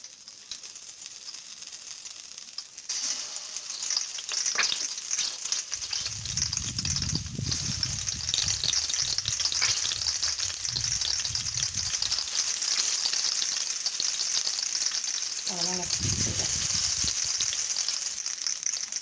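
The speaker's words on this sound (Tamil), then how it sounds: "எண்ணெய் காஞ்ச உடனே கத்திரிக்காய் எடுத்து வைக்கிறோம்" Brinjal (eggplant) pieces frying in hot oil give off a soft, continuous hiss and crackle, fairly faint and close. A few low bumps come partway through, and no one speaks.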